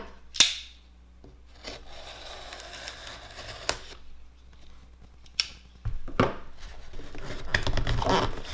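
An electrician's tool set box being opened and handled, with sharp clicks of latches, rubbing and scraping of the case, then louder rustling and clattering near the end, close up with no talk.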